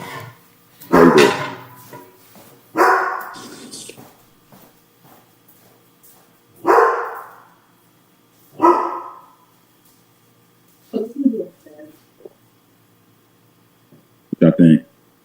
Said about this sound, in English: My dog barking.